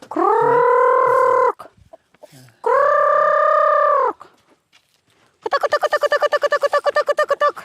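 Loud, close turkey and duck calls: two long honking cries, then a rapid run of gobbling pulses, with no talking over them.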